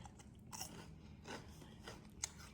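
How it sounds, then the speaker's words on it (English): Crisp potato sticks being bitten and chewed close up, a few quiet crunchy bites and chews spaced apart in an otherwise quiet room. "So crunchy and good."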